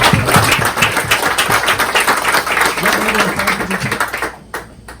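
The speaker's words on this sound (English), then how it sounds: "let's give Anne a round of applause for all of them" A small crowd clapping at a campaign stop in a shop, busy close handclaps with a few voices mixed in, fading out toward the end.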